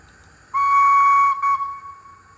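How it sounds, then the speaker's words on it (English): A single shrill, steady whistle from the DCC sound decoder of an Oxford Rail J26 model steam locomotive blasts for about a second, dips briefly, then sounds again more faintly before trailing off; no voices. "Whistle!"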